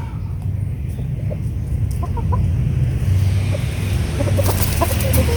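Six-month-old Kelso White Sinibalang chickens clucking close by, soft repeated clucks and short calls over a steady low hum of farmyard background.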